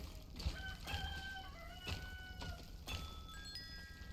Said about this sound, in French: vous avez entendu le coq qui a chanté?